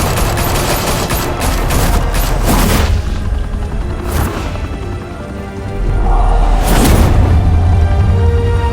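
Bursts of gunfire in Batman: A Telltale Series, a rapid fusillade of loud booming shots and echoing cracks spread across the scene, with no voices.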